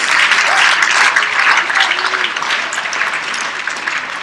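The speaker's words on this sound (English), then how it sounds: "Let's give them a big round of applause." A conference crowd at the WJEF 17 session breaks into a loud, sustained round of applause, dense clapping that holds steady and tapers a little toward the close.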